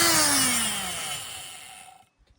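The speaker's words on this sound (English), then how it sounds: "It's kind of like a grinder, but just oscillates backwards and forwards." An oscillating multi-tool's high buzzing whine cutting into wood on an aluminium fishing boat, winding down and stopping near the end, followed by a few faint clicks.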